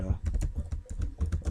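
Keys clatter in a quick, uneven run on a computer keyboard as a web address is typed into a new browser tab. The close, crisp taps come in a short burst.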